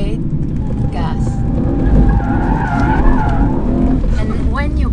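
A BMW M3 on a race circuit, engine droning loud and steady with tire noise, an instructor and driver talking over it throughout.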